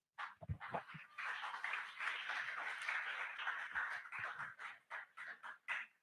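A church congregation applauding, a steady spread of clapping that swells after a few sharp claps and holds for several seconds before breaking into scattered claps, heard from a distance and fairly faint.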